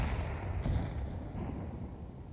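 Grenades detonating in Counter-Strike 2 during a professional match between Apogee and Team Liquid, heard as a dense, low rumbling burst with a sharp hit near the middle, sustained and muffled, with no talk over it.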